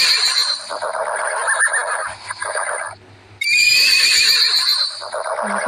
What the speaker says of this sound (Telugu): గుర్రాల శబ్దం వినపడుతూ ఉంది.